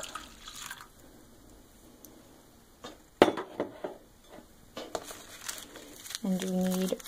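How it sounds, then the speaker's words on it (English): Milk is poured and stirred into a Sweet'N Low vanilla chai latte, giving scattered soft clinks, drips and crinkling rustles at close range, with a short vocal sound near the end. "I'm going to stir in the milk first"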